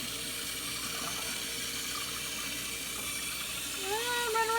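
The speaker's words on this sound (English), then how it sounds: "You want to take it under cold water and just kind of rinse it like that" Cold tap water runs steadily as food is rinsed under it, a constant close splashing hiss throughout with a faint higher tone near the end.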